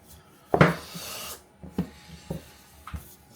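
Lard and butter pastry dough for a quiche being rolled out, heard as a loud rasping scrape of rolling pin on dough, then several softer rubbing and knocking strokes, close and with no talk.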